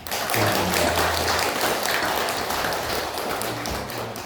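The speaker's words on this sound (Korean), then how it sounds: "한번 우리가 축복하며 격려의 박수 한번 하겠습니다." A church congregation at a Sunday service claps together in encouragement, a dense, steady wash of applause that holds for about four seconds and fades slightly near the end.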